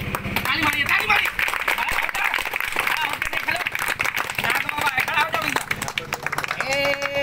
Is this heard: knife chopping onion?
no